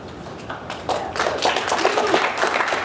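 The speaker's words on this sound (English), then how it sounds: "No need to clap after everything I say." A panel audience at a Dee Snider event at Days of the Dead Chicago breaks into a short burst of scattered hand clapping, rising in density and staying moderately loud for a few seconds.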